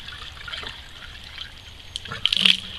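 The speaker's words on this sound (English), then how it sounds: "So I've just got a watering jug, and I'm just going to fill it up." Water trickles from a watering jug into a water pump while it is primed, a soft steady pour that grows louder and splashier near the end.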